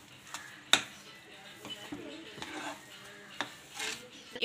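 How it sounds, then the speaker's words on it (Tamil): Rava kesari semolina being stirred in a pan, with scattered scrapes and clinks of a spoon against the metal and a faint background sizzle, irregular and fairly quiet. "இப்போ நல்லா கிண்டுங்க."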